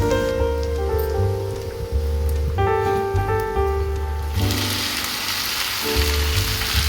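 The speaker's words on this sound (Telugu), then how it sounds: "మరీ హైలో పెట్టకుండా మీడియంలో పెట్టి వేపండి, లేదంటే మాడిపోతాయి అవి." Oil frying in a pan on medium heat for an okra and prawn curry, giving a steady hiss and crackle under loud tonal background music.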